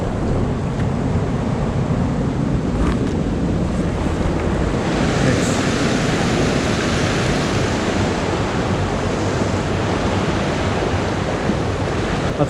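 Fast-flowing stream water rushing during a snowstorm, a dense continuous roar close to the microphone with wind buffeting mixed in, no voices.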